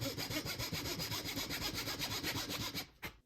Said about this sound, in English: now you're ready to start sawing